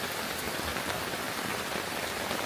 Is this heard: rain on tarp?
yes